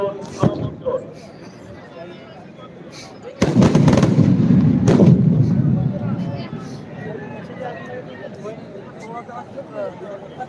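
Fireworks bursting at the Digha Ganga festival, with scattered sharp pops early, then a loud heavy barrage of booms and crackle that rumbles on and slowly fades, while a crowd murmurs and people talk nearby.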